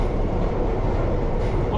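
A London Underground train of the older stock runs along the track approaching a terminus, a steady loud low rumble of wheels and motors filling the whole stretch without pause.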